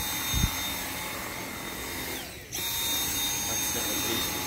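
Dyson V7 cordless vacuum cleaner runs with a steady high motor whine, briefly dipping and cutting out midway before spinning back up to a constant hum.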